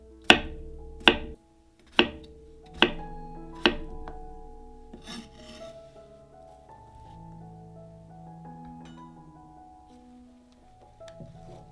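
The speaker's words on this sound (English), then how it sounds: "Let's just finish chopping up the rest of these humble, earthy potatoes today." A knife chops through earthy potatoes on a board, giving five sharp, evenly spaced strikes in the first few seconds, after which comes a softer stretch of faint scraping and handling with light tonal clatter.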